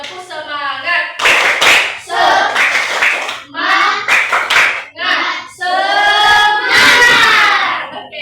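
Class of students in an Indonesian college lecture doing the 'tepuk semangat' chant, rhythmic bursts of group clapping alternating with loud, sung group shouts in a steady call-and-response pattern.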